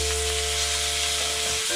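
Oil sizzles steadily in a pan as green beans fry, a dense, even crackling hiss over a low hum, fairly close and unbroken, with a faint clatter near the end.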